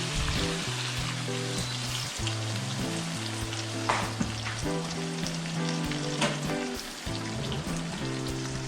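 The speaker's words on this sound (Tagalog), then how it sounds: "Lagyan natin 1 cup of water." Sizzling pork bistek in a pan as a cup of water goes in, a dense, steady crackling hiss like rain on a surface with occasional stirring taps over a faint low tonal hum, close and continuous.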